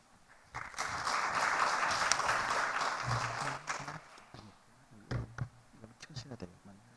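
Applause swells from a church congregation for a few seconds, welcoming a speaker, then fades into scattered claps and the shuffling noises of a room.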